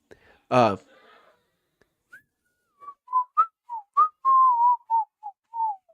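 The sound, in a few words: person whistling a tune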